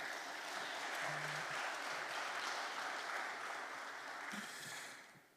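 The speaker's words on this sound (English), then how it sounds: "I think that deserves a round of applause" Faint, distant applause from a crowd at a Namibian local content conference, a steady wash of clapping heard alone that fades out at the end.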